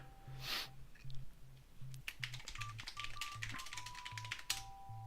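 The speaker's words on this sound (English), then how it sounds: "I can't see it while I'm typing." Fast, close typing on a computer keyboard while writing a book, a dense run of crisp key clicks over a faint pulsing low hum and a thin steady tone, with no talking.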